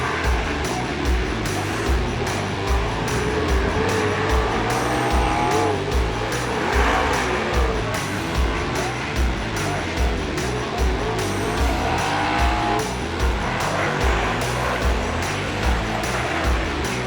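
Modified race cars roar around a speedway track in a loud, continuous drone of engines, rising and falling as cars pass, with tyre squeal mixed in and commentary running underneath.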